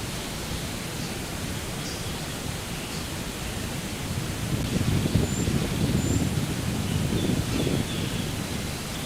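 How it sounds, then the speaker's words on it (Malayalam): Aruvikuzhi waterfall in Idukki, Kerala, during the monsoon: a dense, continuous roar of falling water that swells slightly in the middle, with no voices. "വെള്ളം താഴേക്ക് പതിക്കുന്നതിൻ്റെ സൗണ്ട് ഹെവിയായിട്ട് കേൾക്കാൻ പറ്റും"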